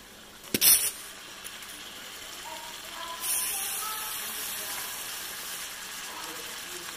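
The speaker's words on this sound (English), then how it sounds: "And now I'm gonna add the shrimp." Shrimp tipped into a hot pan for lemon garlic pasta: a sharp clatter near the start, then after a quiet gap a steady, hissing sizzle rises and holds at moderate level.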